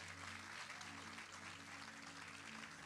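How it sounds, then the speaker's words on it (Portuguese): Church congregation applauding the drummer Natan, a continuous broad wash of clapping held at an even level throughout, with a low instrumental hum beneath. "Eu queria que você desse um aplauso por ele."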